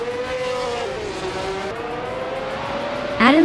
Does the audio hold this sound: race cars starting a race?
yes